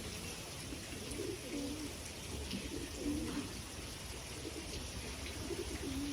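A racing pigeon cooing softly in a loft, a few low rolling coos repeating against a steady hiss of rain-like background noise.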